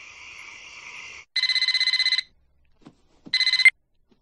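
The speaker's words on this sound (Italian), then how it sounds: "Uno scherzo telefonico a Cleveland" A telephone rings during a prank phone call, a steady electronic tone followed by two bursts of rapid trilling rings with a pause and a couple of soft clicks between them.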